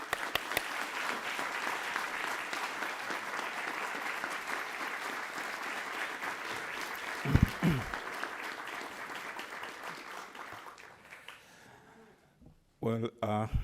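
Sustained audience applause at a university lecture hall welcoming a guest lecturer, steady dense clapping for about eleven seconds before fading out, followed by a few brief sounds near the end.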